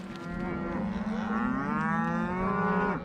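A cattle herd on a snowy Montana ranch in late May lets out a loud, close, drawn-out moo lasting about three seconds, with rich harmonics and a falling tail.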